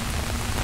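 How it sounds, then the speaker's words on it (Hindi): Steady rain falls outside a Delhi court, a dense, even patter of drops on surfaces that holds constant throughout without any voices. "मैंने एक बार दोबारा दिखा दिया है कि कैसे बारिश हो रही है"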